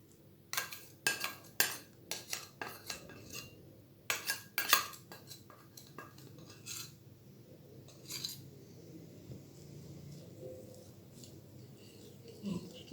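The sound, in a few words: beating cake batter with a hand whisk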